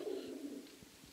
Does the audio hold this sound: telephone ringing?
no